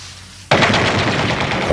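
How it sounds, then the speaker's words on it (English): A machine gun opens up in a Vietnam battlefield setting, a sudden loud sustained burst of rapid automatic fire that continues steadily after an abrupt start. "A machine gun, you could hear it in the distance, started to level the area"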